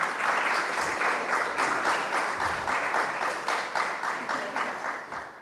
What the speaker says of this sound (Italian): facciamo un applauso all'autrice